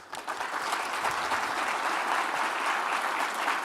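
Audience applause fills a State of the City address in Livonia, a steady, dense wash of clapping hands that holds evenly throughout without a break.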